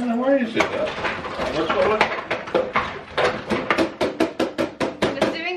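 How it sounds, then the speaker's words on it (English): Dishes, pots and cutlery clatter loudly in a kitchen sink during vigorous washing up, with rapid repeated clinks and knocks growing more rhythmic toward the end, under someone talking. "He's doing his very noisy washing up."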